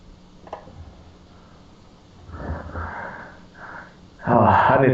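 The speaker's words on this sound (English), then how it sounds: "you're breathing a little heavy there" A man breathes heavily in close, rhythmic sniffing and wheezy exhales that swell into loud, rough breaths at the end, with no words spoken.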